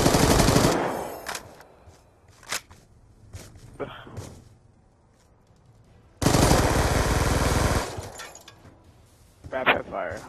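Two long bursts of rapid automatic gunfire, loud and close, separated by quieter stretches with a few single sharp bangs and brief voices.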